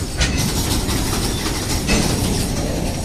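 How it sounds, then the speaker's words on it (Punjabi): A train moves along the tracks beside a railway platform, with a steady, broad rumble and faint rattling of the cars, continuous and fairly close throughout, with no talk. "ਇੱਕ ਤਾਂ ਟ੍ਰੇਨ ਦੀ ਆਵਾਜ਼ ਹੀ ਬੜੀ ਆਈ ਜਾਂਦੀ ਹੈ"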